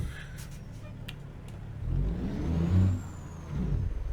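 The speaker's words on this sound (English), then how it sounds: "Grind the gear a bit." A truck engine in American Truck Simulator rumbles low, then surges and whines as a gear is ground during a shift. The surge swells, dips briefly, then climbs again over faint clicks, with no speech.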